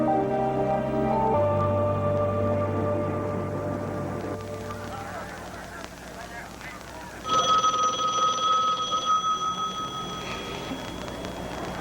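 An old-style telephone bell rings in a stretch of steady, repeated ringing with harmonic tones, partly under background music and voices, in a 1970s TV drama scene.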